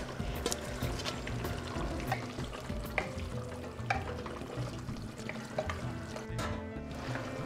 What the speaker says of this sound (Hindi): मैं इस पर अब साग डाल रही हूँ। ये पानी उबल रहा है।